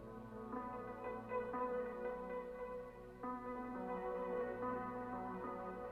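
A soft, muffled granulator synth texture run through a low-pass filter, with rich low harmonics, shifts slowly between pitches, its bright top end rolled off, playing steadily without voices.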